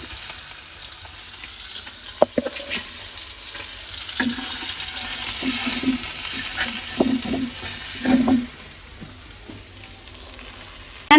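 Fish frying in a pan with turmeric, chilli powder and green chillies in a village kitchen, a soft steady sizzle broken by occasional utensil taps and stirring sounds.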